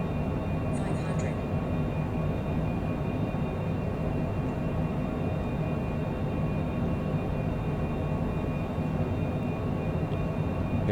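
Cockpit of an airliner on a high-speed night landing at El Alto, La Paz, Bolivia: a steady, dense engine and airflow roar fills the cabin throughout, with a faint short chirp early on.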